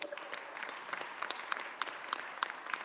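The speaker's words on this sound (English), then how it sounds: "Give again a great round of applause to our MC" Conference audience at a human rights event in Washington, D.C. applauding the master of ceremonies, with quiet, somewhat distant clapping and a few louder individual claps standing out.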